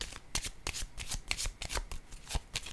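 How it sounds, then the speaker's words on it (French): Tarot cards being shuffled and handled, then laid down on a table, giving a run of close, crisp riffling snaps and soft slaps in an irregular rhythm, with no talking. "je vais déposer une autre carte."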